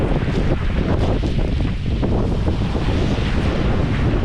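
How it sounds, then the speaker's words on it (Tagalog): Strong sea waves surging and crashing continuously on the coast near Sarangani, with heavy wind buffeting the microphone throughout. "So, lakas na ng alon."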